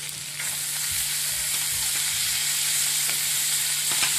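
Half-cooked potatoes being stirred in a pan with salt and tamarind for a sour potato dish: a continuous close sizzle of frying with soft, repeated scraping stirs and no voices.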